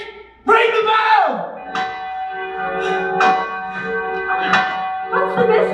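An alarm bell rings out during a live stage performance of Macbeth, with several ringing strikes at uneven intervals that linger and decay, mixed with loud shouting voices from the actors.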